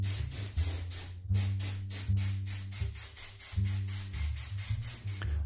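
Matte varnish sprayed over a finished model in short, repeated hissing bursts, close and even, with a low steady hum running beneath the spray.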